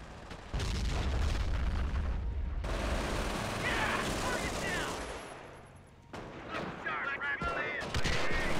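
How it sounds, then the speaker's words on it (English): Grenades bursting against a building in the Company of Heroes video game: heavy booms and rumbling blasts roll through a dense battlefield din of gunfire and explosions, loud and continuous with a brief dip before another cluster of hits. "Throw grenades at this building"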